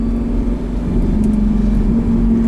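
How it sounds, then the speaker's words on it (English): A 2007 Lamborghini Gallardo Spyder's V10 engine drones loudly and steadily at high revs, its pitch holding and rising slightly, with rumbling road noise underneath. "This is just a pure V10 screech."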